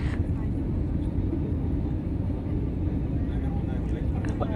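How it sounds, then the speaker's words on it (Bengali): Steady low airplane cabin drone while an airliner descends toward landing at Shahjalal International Airport in Dhaka, a dense rumble filling the lows at constant loudness with faint cabin sounds above it. "প্লেনটি ধীরে ধীরে নিচে নামতেছে এবং"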